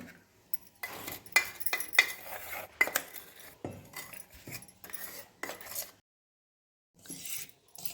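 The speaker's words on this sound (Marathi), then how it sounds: "साखरना ह्या साईमध्ये अशी व्यवस्थित मिक्स करून घ्यायची" A spoon stirs powdered sugar into whipped fresh cream in a bowl, giving quiet intermittent scrapes and clinks against the dish, with a pause of near silence before the stirring resumes.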